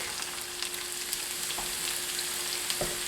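Vegetables for a braised chicken dish frying in a pan, a steady close sizzle with faint scattered crackles and a couple of soft stir or utensil knocks, no talking.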